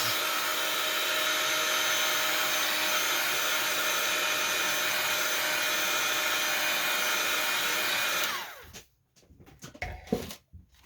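Heat tool blowing hot air over a napkin decoupage page in a junk journal: a loud, steady whooshing roar runs for about eight seconds, then cuts off, leaving faint handling sounds.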